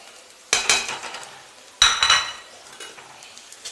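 Coconut frying in a pan with coriander, chilli and turmeric powders: two bursts of sizzling and scraping, each one as the mix is stirred, fading between strokes and close to the mic.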